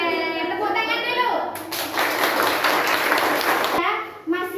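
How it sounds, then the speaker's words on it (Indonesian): A classroom of children claps together for about two seconds, a dense burst of many small hands heard in the room, with children's voices before and after. "Oke, tepuk tangan dulu."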